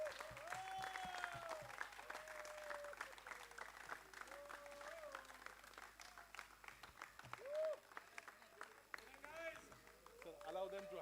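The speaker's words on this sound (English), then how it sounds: "all of us will clap for the runners-up" Audience applause for the runners-up at an indoor cricket tournament final trophy ceremony, scattered clapping running throughout alongside talk and occasional voices.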